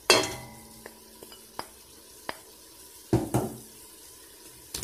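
Onions frying and stirred in a pan, a quiet sizzle broken by sharp spoon taps and scrapes, with a louder cluster of stirring about three seconds in, close and without talking.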